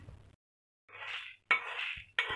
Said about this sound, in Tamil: இதை வேறு பிளேட்டுக்கு ட்ரான்ஸ்ஃபர் பண்ணிவிட்டு அடுத்தது வைக்கலாம்.